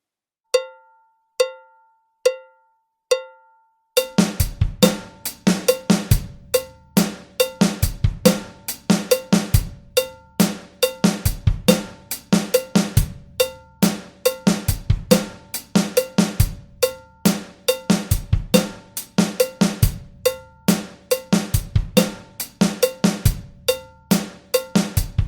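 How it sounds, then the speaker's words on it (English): Acoustic drum kit playing bar 4 of a classic break beat in a steady repeating loop at a slow practice tempo, opening with four sparse clicks before sharp snare and cymbal hits with kick underneath, loud and close throughout. "We'll loop bar 4 round and round so we can get super comfortable with that"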